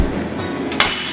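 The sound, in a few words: hammer hitting a Prince Rupert's drop of glass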